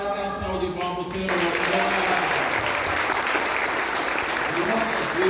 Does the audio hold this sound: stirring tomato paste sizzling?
no